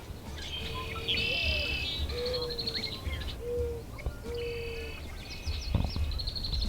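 Bullock's orioles, mourning doves and red-winged blackbirds calling at a wildlife refuge wetland; bright chirps, trills and whistled notes come in bursts at moderate distance over a soft outdoor background hum.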